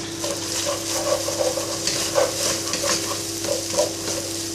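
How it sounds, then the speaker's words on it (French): Vegetables stir-fried in a hot pan give a steady close sizzle, with the soft scrape and clatter of stirring rising and falling throughout and no talk. "on fait revenir tout ça"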